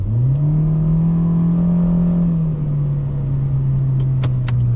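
Chevrolet Spark engine pulling hard under acceleration, a loud steady droning hum that holds its pitch, then dips slightly as the small car gathers speed, heard close from inside the cabin.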